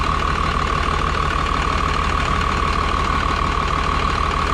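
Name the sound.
1995 truck with Cummins diesel engine idling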